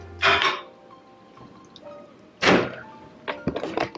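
A dirty home microwave door thunks shut after food goes inside: two loud clunks of door and dish, a few smaller clicks and taps afterward, close by, with no speech.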